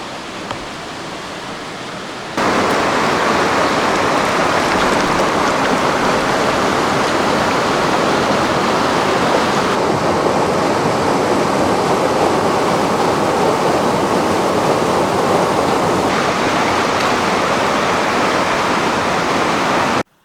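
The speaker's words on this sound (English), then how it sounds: "There's a bunch of waterfalls back here" Waterfalls in the Alaska backcountry roar as a steady broadband rush of falling water, loud and constant after a quieter opening moment, with no voices.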